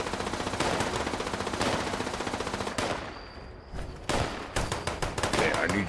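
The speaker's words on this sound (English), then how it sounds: "Let me just keep firing." Rapid automatic gunfire from Fallout 76 rattles in long bursts, with a brief lull before sharp shots and bursts resume, loud and close throughout.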